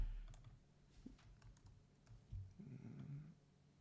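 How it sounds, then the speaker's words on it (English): Quiet, uneven bursts of typing on a small computer keyboard, soft close clicks scattered over a low background hum, with no speech. "You need to learn how to use this keyboard."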